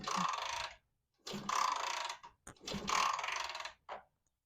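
A vintage British motorcycle engine kicked over with the spark plug out and grounded, three long whirring mechanical spin-ups separated by pauses, each with a clattering ratchety texture, plus a brief fourth burst at the end.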